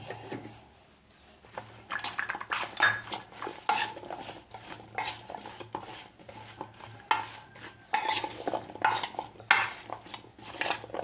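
A spoon clinks and scrapes in a cooking pot as pepper powder and salt are stirred into an ash gourd masala curry, irregular close metallic taps that come in short bursts separated by quiet gaps.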